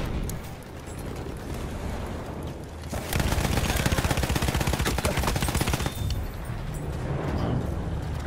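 Sniper and machine gun fire in the video game Battlefield 1, scattered shots at first, then a dense, loud burst of rapid automatic fire that runs for several seconds before easing into lighter rumbling gunfire.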